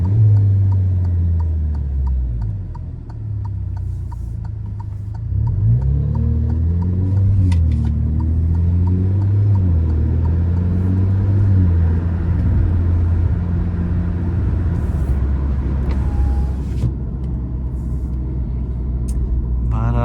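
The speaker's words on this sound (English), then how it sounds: "you do get a little turbo noise, I've noticed" An Alfa Romeo Giulia cruises with a steady low engine rumble inside the cabin, its pitch rising and falling through gear changes, a faint turbo whistle and soft ticking above it, no voices.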